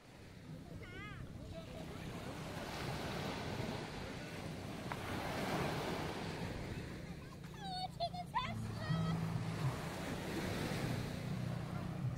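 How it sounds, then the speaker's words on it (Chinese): Ocean waves breaking at the seaside make a steady, broad wash of surf with wind buffeting the microphone, while children's voices and cries carry faintly in the background. "白色的是海浪"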